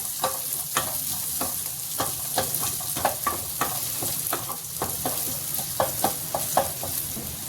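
Vegetables with spices fry in a hot pan for a home-cooked dish, giving a soft, continuous sizzle. A spoon scrapes and stirs repeatedly in an irregular rhythm, close and moderately loud, with no talking.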